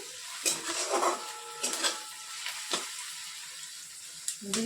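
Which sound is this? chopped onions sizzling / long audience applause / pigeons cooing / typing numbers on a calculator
chopped onions sizzling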